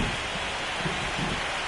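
Rain pours during a Mets versus Yankees postseason baseball game at Petco Park, a steady, dense hiss of falling water with no break.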